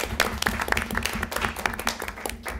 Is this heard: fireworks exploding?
no